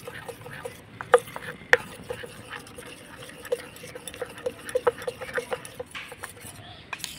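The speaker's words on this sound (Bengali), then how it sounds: "এবার তেলের সঙ্গে ভালো করে কর্নফ্লাওয়ারটাকে গুলে নেব।" A spoon stirs cornflour into oil in a small bowl, making soft scraping swirls broken by sharp clicks and taps against the container. It sounds close and fairly quiet, with a faint murmur in the background.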